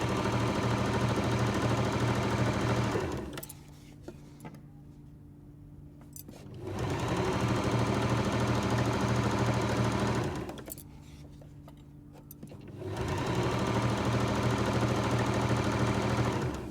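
Long, loud runs of a sewing machine stitching a quilt block seam, broken by two pauses where the motor drops to a low hum before it speeds up again.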